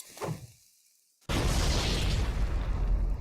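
A plasma grenade in Halo: Combat Evolved detonates with a sudden loud blast after a brief quiet lull, its crackling, roaring wash of sound sustaining to the end.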